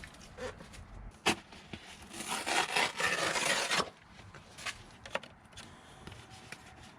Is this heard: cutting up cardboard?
yes